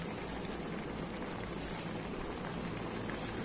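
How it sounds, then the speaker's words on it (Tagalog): A pot of ginataang langka, coconut milk stew with jackfruit and zucchini, simmers on the stove, giving a steady soft bubbling hiss, faint and continuous with no talking. "At yan na po. Kumukulo na."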